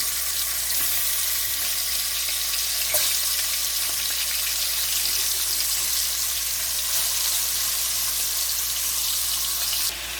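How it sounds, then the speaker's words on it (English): Chicken back sizzles steadily in a pan of burned curry, Jamaican style, a loud continuous hiss and crackle with no talking. "now that my curry is burned, I'm gonna put in my chicken back."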